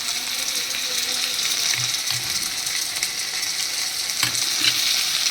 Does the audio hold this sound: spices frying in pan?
yes